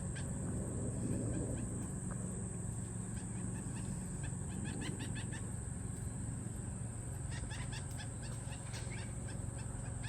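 King parrots call from behind a bush in a backyard, giving a steady run of repeated squawks and chattering notes over constant background hiss and insect drone.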